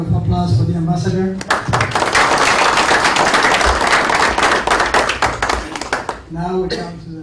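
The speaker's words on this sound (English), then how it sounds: "Another round of applause for the ambassador." Audience applause for an ambassador at a policy talk, a loud dense burst of clapping that swells in after a speaking voice, lasts several seconds, then tapers as talk resumes at the end.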